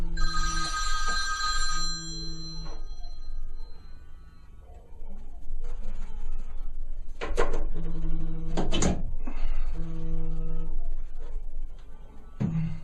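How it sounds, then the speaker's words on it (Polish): A telephone bell rings in repeated bursts, a steady two-pulse pattern that recurs several times against a quiet room, with a few knocks and rustles in between. "Telefon dzwoni"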